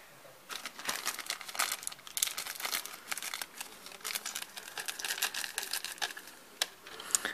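Plastic and cardboard packaging being crinkled and torn as a Playmobil 71088 Christmas bakery advent calendar toy box is opened, a close, busy run of crackling rustles with no talk.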